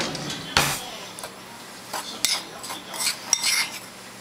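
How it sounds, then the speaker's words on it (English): A metal spoon stirs pectin into a cup of sugar for quick strawberry jam, giving a few sharp clinks and scrapes against the bowl at irregular moments, close by and fairly quiet. "So you're stirring it into 1 cup of sugar."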